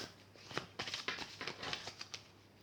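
A large luxury tarot deck being handled and shuffled, giving a close, soft run of papery riffles and flicks in quick bursts with no voice over it.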